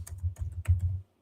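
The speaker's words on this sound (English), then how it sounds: "I'll type it in for you." Quick taps on a computer keyboard, a short close-up burst of several clicks in an uneven rhythm before falling silent.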